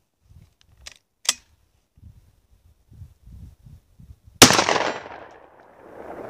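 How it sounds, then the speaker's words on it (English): A Mossberg MVP Patrol .308 rifle fires one sharp, loud, close shot that rings out and decays over a second or two, preceded by faint handling clicks and mechanical rattles. "let's shoot some more here"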